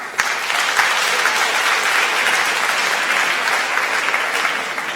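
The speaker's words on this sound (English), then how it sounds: "please, again, a big round of applause for all our 8 participants" A big round of applause for eight contestants on stage at a live creativity competition, loud, dense clapping from a large audience that stays steady and full throughout.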